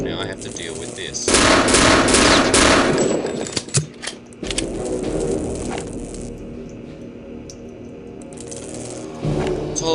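Gunfire in the shooter game Return to Castle Wolfenstein: dense bursts of automatic fire, then scattered single shots and clatter, loud and close, with a voice talking intermittently.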